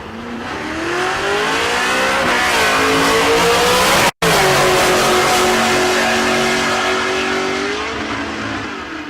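Drag cars launching side by side down the strip, a Pontiac G8 with a 427 LS engine and a Mopar A-body, engines roaring hard and rising in pitch through the run, with a brief break midway and no talk over it.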